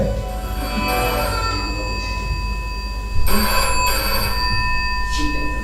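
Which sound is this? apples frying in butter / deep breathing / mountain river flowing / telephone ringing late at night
telephone ringing late at night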